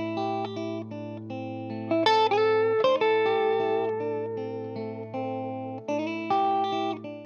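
Electric guitar playing a slow blues lick, sustained bent notes and short phrases with a touch of reverb, played alone.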